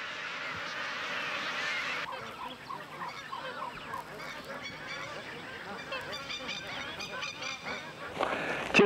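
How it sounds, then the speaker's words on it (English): Loud, raucous honking from a flock of magpie geese in northern Australia, overlapping calls continuing throughout, with a dense noisy burst at the start. "The raucous pied geese, anticipating the coming of the monsoon,"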